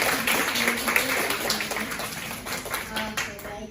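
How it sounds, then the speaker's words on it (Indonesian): An audience at a public speaking and presentation-skills session claps for itself, with brisk, scattered handclaps running throughout while a speaker keeps talking over them. "Teman-teman semua di sini boleh tepuk tangan dulu untuk diri sendiri."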